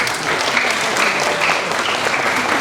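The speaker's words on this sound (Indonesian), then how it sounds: "Tepuk tangan buat Pak Bupati." Dense, continuous applause from a large crowd at a mass wedding ceremony for 71 couples, honoring the regent, steady and loud throughout with no voices standing out.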